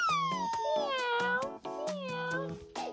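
A cat meows several times in quick succession, clear and close, its drawn-out cries overlapping over soft clicking sounds.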